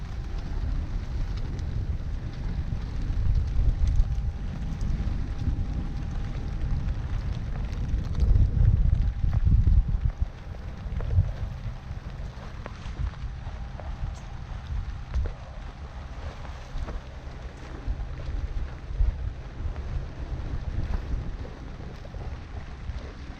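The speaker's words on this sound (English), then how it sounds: "It's raining quite a bit." Steady rain and gusting wind roar over a Bavaria 41 sailboat, a dense continuous wash of noise with deeper rumbling buffets and no voices.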